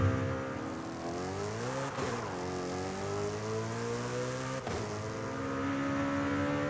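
A 903-horsepower car in Forza Horizon roars steadily at high revs, its engine note rising and dipping through two quick gear changes, loud and close with no talk over it.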